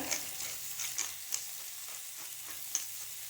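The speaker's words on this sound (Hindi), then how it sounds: "और सिर्फ 1 मिनट के लिए हम इन्हें साटे कर लेंगे।" Carrots cut lengthwise and other vegetables sauté with salt and black pepper in a frying pan, giving a steady close sizzle dotted with a few light clinks and stirring ticks, with no voices.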